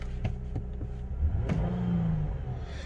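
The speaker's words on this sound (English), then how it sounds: "if I give it a little rev" A 2011 Lexus IS250 F-Sport's cold V6 engine revs up briefly from idle, rising in pitch and falling back, close by, with a few clicks and knocks before it.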